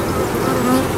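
Honey bees buzz steadily inside an open beehive during a hive inspection, a close, continuous drone with a faint tonal hum and no pauses.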